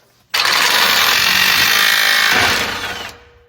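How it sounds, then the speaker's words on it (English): A power tool works a bolt loose on a Ford F-350 Powerstroke truck, one loud, continuous mechanical whir lasting about three seconds that trails off at the end. "I am loosening this bolt."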